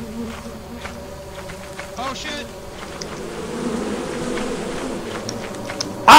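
Bees buzz in the video game Lethal Company, a continuous droning hum under voices and background game noise, ending with a sudden loud burst.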